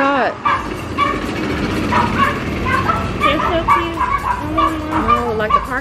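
A dog barks and yips repeatedly near a street at a Cancun resort while traffic passes, with people talking and exclaiming over the barking.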